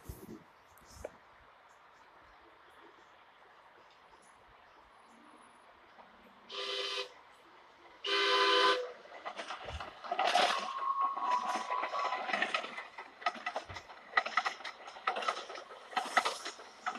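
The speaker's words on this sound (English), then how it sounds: "Another train." A DART commuter train in Dallas passing by outdoors, with a rising rumble and clatter that swells midway and continues with rail noise and brief horn-like tones, fairly distant to moderately near, with faint background voices.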